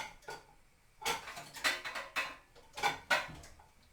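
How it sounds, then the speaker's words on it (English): A metal lid is fitted onto a saucepan on the stove with a series of sharp clinks and clatters, about half a dozen close, bright metallic knocks that come in quick bursts. "You can actually put your lid on the saucepan if you want it to boil quicker"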